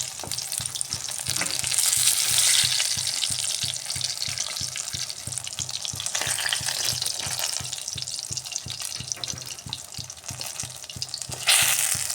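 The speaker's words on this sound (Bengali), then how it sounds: "এভাবে ফুলতে আরও কিছুক্ষণ ফ্রাই করে নিচ্ছি বেগুনগুলো" Eggplant pieces fry in hot oil, a loud, dense, unbroken sizzle heard up close, with a brief sharper burst of crackle near the end and no speech.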